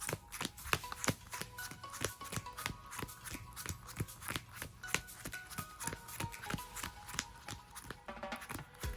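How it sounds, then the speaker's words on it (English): Yu-Gi-Oh! trading cards being shuffled by hand, a steady run of crisp riffling and tapping bursts repeating close up for the whole stretch, with no voices. "Again, I want to go ahead and make sure we shuffle up."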